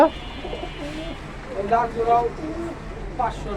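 Pigeons coo in a few short repeated bursts at a pigeon market in Dhaka, heard close under steady conversation between people.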